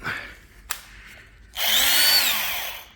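A faint tap, then a power drill whirs up loudly and close, drilling through the floor of a VW T4 Transporter van, its pitch rising and holding before easing off as it winds down.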